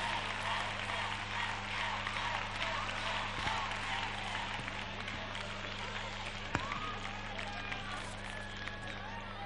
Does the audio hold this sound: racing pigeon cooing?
no